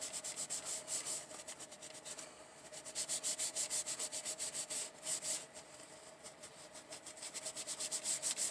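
A tissue soaked with WD-40 wipes across a gun or magazine surface in repeated rhythmic strokes, a close, soft rubbing and scrubbing sound with no talk.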